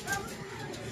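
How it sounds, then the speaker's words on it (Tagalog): A racing pigeon coos softly, a low throaty murmur lasting about a second, heard close with some background noise. "Ayan na yung ibon na yun."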